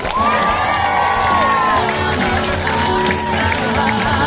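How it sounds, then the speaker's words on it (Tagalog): Cheering and whooping from a crowd at a barangay campaign event at Sitio Gulud, loud and continuous with shouts rising over a dense wash of applause. "Palakpakan niya naman na may kasamang hiyawan at pagmamahal"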